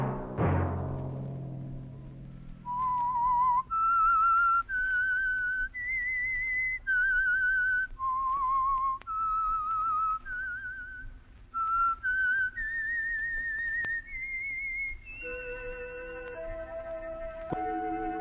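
The whistled theme tune of The Whistler radio show: a clear solo whistle carrying a slow, wavering melody of sustained notes, which follows a brief resonant opening hit and fades as other tones enter at the end.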